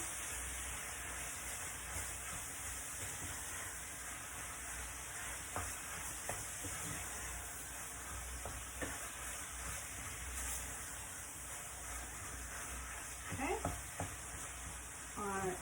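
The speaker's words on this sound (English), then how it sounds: "let me just give this a stir before I put the salt in" Spiced cottage pie mince frying in a pan and being stirred: a soft, steady sizzle underneath, with occasional scraping stirs of a utensil against the pan, close and fairly quiet, no voices.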